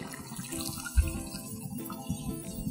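Tamarind water poured into a pot of prawn sambar, a soft continuous splashing pour with a small burst near the start, moderately close and without talk.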